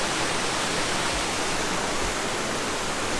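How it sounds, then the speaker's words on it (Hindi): A waterfall roars loud and close along a trekking trail, a thick, unbroken wash of white noise that fills the whole moment with no voices over it. "आवाज़ सुन रहे हो ना, बहुत तेज आवाज़ आ रही है झरने की"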